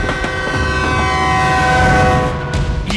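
Train horn blaring over rumbling railcars in a Telugu action movie scene, a loud sustained multi-tone blast held for the whole stretch with a steady rolling rumble beneath.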